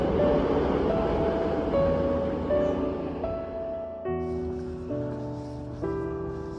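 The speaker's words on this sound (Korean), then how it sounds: "시끄러운 저 전철인지 기차인지 트램인지 전철인 것 같아요" A noisy commuter train or tram passes by a riverside path in Porto along the Douro, its loud rumble and shifting metallic squeal rising and fading close by with no talk.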